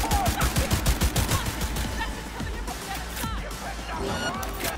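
Rapid gunfire from a weapon in the video game Cyberpunk 2077, a loud fast burst of repeated shots at the start that thins into scattered impacts and game noise, with a voice talking over it.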